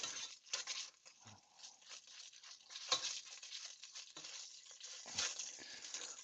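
Ingredients for a spicy shrimp coconut curry sizzle in a pan, a quiet, steady frying hiss broken by soft stirring scrapes and occasional low knocks from the pan.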